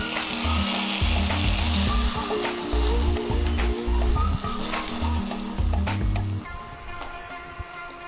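Crushed onions sizzle and fry loudly in a hot pan while chicken koftas cook, a steady close crackle with occasional stirring over several seconds.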